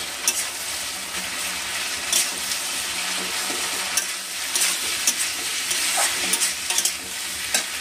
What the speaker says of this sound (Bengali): এইখানে যে পাস্তাটা আমি সিদ্ধ করে রেখেছি সেই পাস্তাটা দিয়ে দিচ্ছি তেলের এর মধ্যে দিয়ে ভালো করে খুন্তির সাহায্যে নেড়ে নেবো সসের সাথে